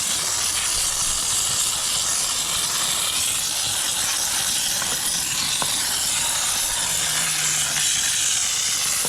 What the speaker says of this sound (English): You should have probably goggles on with doing this, because this is steam that you're dealing with